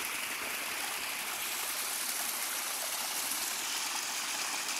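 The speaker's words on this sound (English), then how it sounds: "We're here by a little waterfall on the big river" A small waterfall on a big river roars steadily and close, a dense, even rush of falling water with no pauses and no voices.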